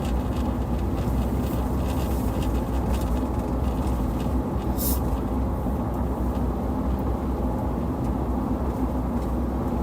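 A slow-moving freight train during an Arizona monsoon storm, a loud, dense rumbling roar that stays steady and continuous throughout, with no voices.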